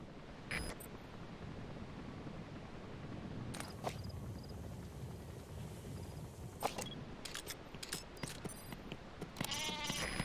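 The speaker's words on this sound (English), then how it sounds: "That's a Caracal sheep." Sheep bleat in short bursts in the video game Metal Gear Solid V: The Phantom Pain, over a steady background hiss, with a few sharp clicks scattered throughout.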